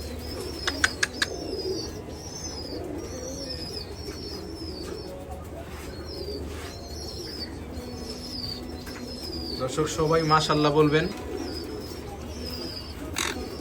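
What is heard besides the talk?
birds in cages at a bird farm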